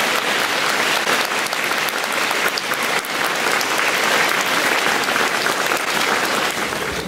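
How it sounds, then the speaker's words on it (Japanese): A school gymnasium audience at a junior high school lecture gives loud, dense, sustained applause, many hands clapping continuously and evenly without a break. "もう一度盛大な拍手をお願いいたします"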